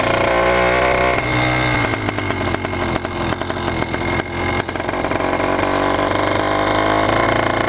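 A small 80cc motorized bicycle engine runs loud and steady, with a rapid mechanical ticking and rattling mixed into its drone, no voices.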